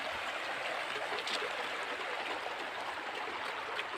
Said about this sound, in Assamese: এইখনে পাগলা নদী